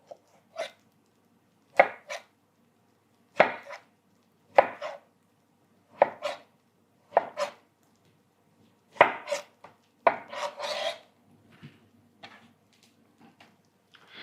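A knife chops sharply onto a cutting board, cutting watermelon, a dozen or so distinct cuts at an uneven pace, with a quick cluster of strokes near the end.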